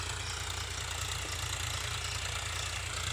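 A Powertrac Euro 50 tractor ploughs a field, its engine giving a steady, dense diesel drone with a low thrumming rumble, constant and unbroken throughout with no talk.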